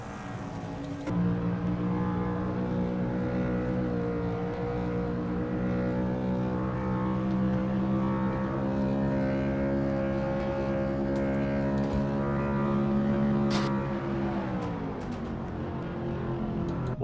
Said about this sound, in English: you heard it from the in-car camera, trying to strain his engine right there to try to get it to go